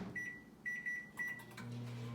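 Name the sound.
microwave oven running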